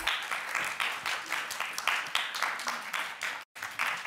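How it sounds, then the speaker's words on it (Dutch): Applause from an audience at a film festival panel session, a dense steady patter of many hands clapping for about four seconds, with a brief gap near the end before it resumes. "nog een applaus voor alle"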